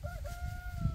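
A chicken gives a short, thin vocal call over low rumbling background noise, heard briefly and at moderate distance.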